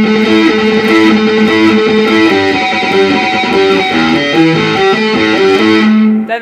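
Distorted electric guitar runs through a riff with a slide, a loud, steady stream of chugging, effects-laden notes that stays close and unbroken for several seconds.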